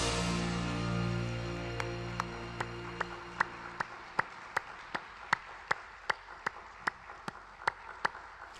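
A worship audience at Osanri Prayer Mountain welcomes a guest pastor with steady, evenly timed clapping in unison, soft and somewhat distant, emerging as a sustained keyboard chord fades away.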